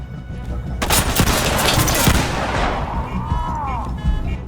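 Sharp, loud revolver shots from a .357 Magnum in the tactical shooter game Ready or Not, a rapid burst of cracks with booming echoes that ring out and fade, with other faint game sounds behind.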